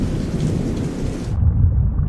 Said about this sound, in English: On average, lightning strikes the Earth 100 times every second.